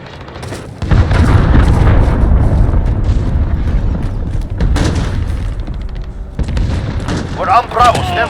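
Heavy booms from a cruise missile strike roll through a Call of Duty Modern Warfare ground war match, a loud sustained rumble of blasts lasting several seconds, with voices breaking in near the end.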